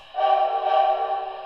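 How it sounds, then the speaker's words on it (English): An MTH Great Northern S-2 model locomotive's forward whistle sounds once, steady and fairly loud, holding its tone for just over a second before trailing off. "Forward whistle."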